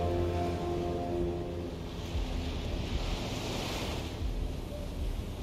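Water lapping and surf washing beside a boat near a safe house in Hitman 3, a steady broadband wash with a low rumble running throughout, no voices.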